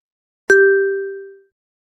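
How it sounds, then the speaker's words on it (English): A single clear bell ding rings out once and decays smoothly over about a second, loud and isolated against silence. "When you hear this bell sound"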